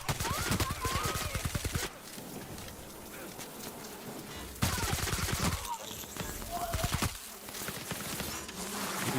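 Rapid automatic gunfire bursts in The Outer Worlds, crackling in fast repeated volleys separated by short gaps, with buzzing creature sounds and game noise filling the pauses.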